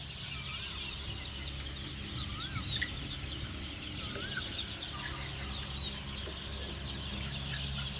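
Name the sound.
Leghorn breed roosters clucking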